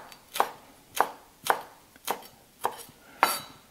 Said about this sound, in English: I'm just going to cut it up.